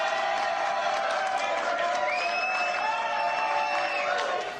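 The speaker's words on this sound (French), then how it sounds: "Applaudissements, s'il vous plaît." Studio audience applause on a French television talk show, a steady wash of clapping and crowd noise with some cheering that holds level throughout, with tonal sounds layered over it.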